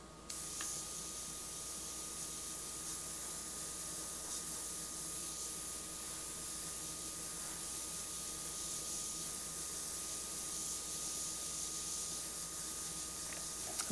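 An airbrush sprays paint onto a leather saddlebag while a black and grey skull is being painted, giving a steady, close, continuous hiss that holds unbroken for the whole stretch.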